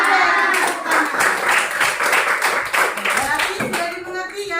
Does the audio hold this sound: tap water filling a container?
no